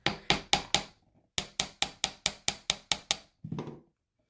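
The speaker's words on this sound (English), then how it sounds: "So let's strengthen it by hammering it a bit." Sharp metallic hammer taps on jewelry wire, a fast group of four, a short pause, then a steady run of about nine more, close and clear, ending with a softer scrape-like knock.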